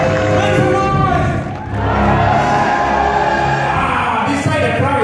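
A live event crowd shouting and cheering for an emcee, a dense, loud roar of voices that holds steady throughout with a brief dip partway through.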